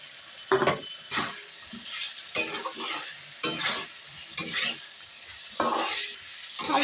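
Fried potatoes are stirred into sizzling masala in a pan for vegetarian Kashmiri aloo dum. About eight distinct scraping strokes sound over a low, steady frying hiss.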